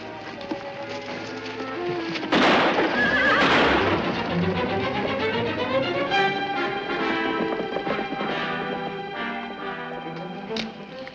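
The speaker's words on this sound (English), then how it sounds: "Maria, get to the horses" Horses in a Western film's lawless Texas town, a loud whinny bursting out mid-clip amid steady clip-clopping hooves, with no talk over it.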